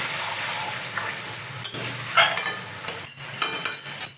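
Mutton being stir-fried with spices in a pan, sizzling under repeated scraping strokes of a spatula that come faster and louder toward the end, close by.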